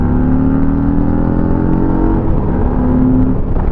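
A 2023 Harley-Davidson Street Glide with the 114 cubic-inch engine runs loud and close, a deep, steady rumble with a slight change in pitch partway through, with no voices over it.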